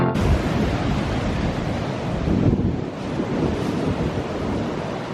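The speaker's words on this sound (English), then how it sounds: "the wind is coming from this direction" Wind buffets the microphone while ocean surf rolls steadily along the coast north of Santa Cruz, a loud, continuous roar with no voices.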